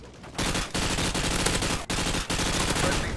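Rapid automatic gunfire in Call of Duty: Modern Warfare 2 multiplayer, a loud, sustained stream of shots with two brief breaks, filling the whole mix.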